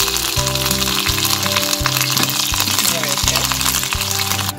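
Curry leaves, dried red chillies, mustard seeds and fenugreek crackle in hot oil for a Kerala ladies finger theeyal tempering, a loud steady sizzle with pops, under a faint recurring electronic tone.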